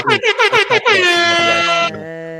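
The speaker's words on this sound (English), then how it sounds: "Air horn for Bobby Lashley." A loud air horn blasts in several quick staccato bursts, then one long sustained honk that drops to a quieter tone at the end.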